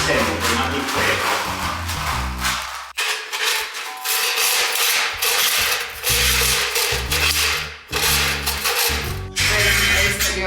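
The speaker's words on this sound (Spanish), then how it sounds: "¿nos quieres contar qué estás haciendo con el serrucho?" Handsaw cutting at a building site in the hills, rough rasping strokes in bursts with brief pauses between, loud and close, with a voice heard in between.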